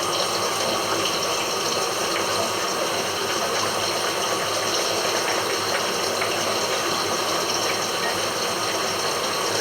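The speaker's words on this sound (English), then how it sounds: "We can probably rinse the broccoli." Running tap water splashes steadily into a kitchen sink as broccoli is rinsed, a continuous even gush with no voices, during home cooking of paprika chorizo chicken with gnocchi.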